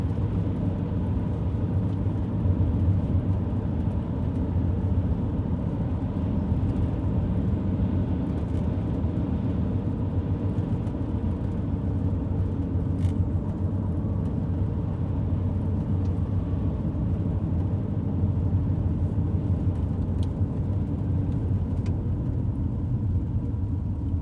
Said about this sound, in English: the car noises are probably like great for ASMR videos